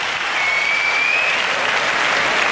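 A crowd gives loud, continuous applause for a Japanese women's kata team at a martial arts competition, dense clapping filling the whole stretch with no voices on top.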